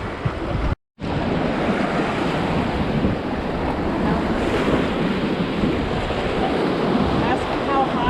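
Rushing water from a raft on the Athabasca River in the Canadian Rockies, a loud continuous roar of rapids with wind buffeting the microphone and a brief dropout near the start.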